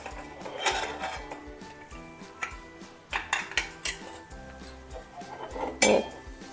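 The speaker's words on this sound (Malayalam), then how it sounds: "കുക്കർ തണുത്തിട്ടുണ്ട് അതൊന്ന് തുറന്ന് നോക്കാം" A metal pressure cooker of cooked split chickpeas is opened in a home kitchen, making scattered clanks, clinks and rattles of the lid and metal, with sharper knocks toward the end.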